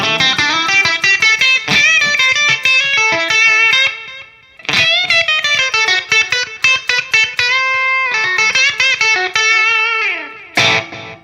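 Electric guitar set to a blues tone with delay and reverb plays a melodic phrase of bent notes and quick runs, loud and up close, with a brief pause midway and echoing tails trailing the notes.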